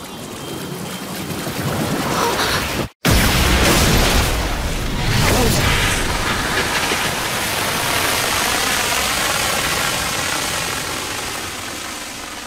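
A water magic spell called Splash Flow in a fantasy anime sends a loud, sustained wash of rushing water, with a brief cut near the start, then a broad roar that slowly eases.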